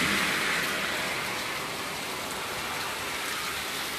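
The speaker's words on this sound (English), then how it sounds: "Wow, it is raining harder." Heavy rain pours down in a steady, dense hiss that holds unbroken throughout, with no voices over it.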